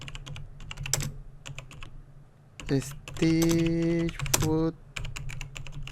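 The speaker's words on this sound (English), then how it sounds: "I'm gonna type double stitch foot presser" Keys clack on a computer keyboard in a quick, close run of taps that stops while a person speaks, then resumes briefly.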